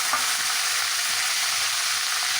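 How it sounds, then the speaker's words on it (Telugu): Onions, ground to a paste, fry in a pan of hot oil for a mutton curry, giving a steady, close, even sizzle that lasts throughout with no talk over it. "ఆనియన్స్ వేసి వేయించుకోవాలి."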